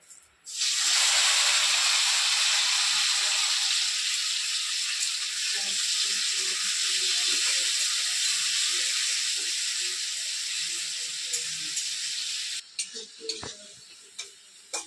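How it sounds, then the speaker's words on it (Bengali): Four medium tomatoes, finely chopped, hit hot oil with a loud, steady sizzle that rises abruptly and fades gradually. Faint stirring clicks sound underneath, and the sizzle stops suddenly near the end, leaving a few scattered clatters. "এবার আমি এখানে 4টে মিডিয়াম সাইজের টমেটো কুচি কুচি করে রেখেছি, এটা আমি তেলে দিয়ে দেবো।"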